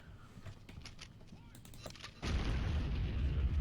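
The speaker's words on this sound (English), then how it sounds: "Let's get some explosives going" Explosives detonating in the Codename Eagle video game, a loud sustained roar breaking in partway through after a stretch of scattered gunfire-like thumps and clicks.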